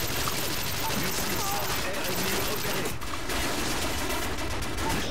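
Akimbo guns in a video game fire in rapid, loud bursts throughout, one volley after another with barely a pause.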